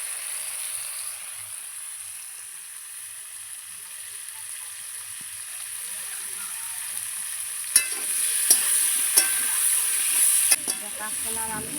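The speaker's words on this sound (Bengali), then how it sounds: "কাঁচকলাগুলো আমি এখন তেলে দিচ্ছি।" Raw green banana pieces sizzle as they fry in oil with a little fish-frying oil, for a tilapia curry. A steady close hiss runs throughout, joined near the end by sharp clattering stirs and a rising spit of the hot oil.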